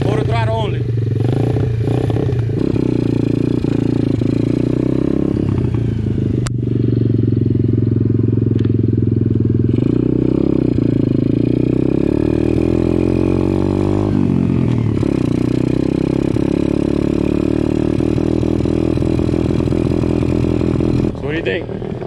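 An Apollo dirt bike engine drones steadily at low quarter throttle as a kid rides off, its pitch rising and falling slightly, with people talking over it throughout.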